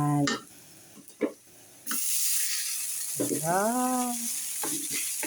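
Garlic fried rice sizzles in a pan, a broad steady frying hiss that starts about two seconds in and runs to the end, with a voice speaking over it in short bursts.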